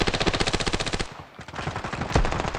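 Rapid, evenly spaced automatic SMG bursts and heavy shotgun blasts ring out in a video game match, a rattling volley, a brief lull, then more firing.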